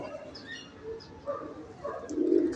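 A male mixed-breed pigeon of Meher Sahab and Chaudhary Sahab lineage, a taddy kabootar, gives soft, low cooing phrases, close by, rising toward the end, with faint chirps and murmurs in the background.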